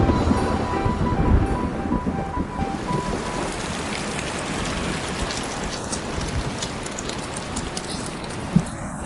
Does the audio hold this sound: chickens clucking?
no